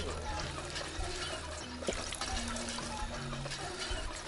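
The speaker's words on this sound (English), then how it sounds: "I'm just healing at a water pump that opened in the station." Water pouring and trickling from a water pump in the video game Fallout 4, a steady running-liquid wash under game background tones, with a voice talking faintly.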